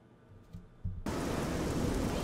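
Rain in Oblivion bursts in abruptly after a quiet stretch with a few low thumps, then holds as a loud, steady, close downpour hiss with no voices.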